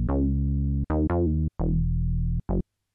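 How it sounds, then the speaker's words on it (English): Arturia Mini Moog emulation playing a bass synth alone: four or five sustained, buzzy low notes with sharp attacks and brief gaps between them, clean and close. "I'm going to be using this Mini Moog by Arturia, which is a nice emulation of the original synth"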